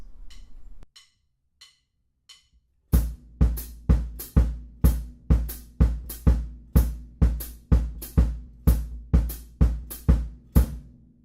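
A few soft count-in clicks lead into a steady drum groove, bass drum in continuing dotted eighth notes falling in a shifting syncopated pattern against crisp snare and cymbal, recorded up close.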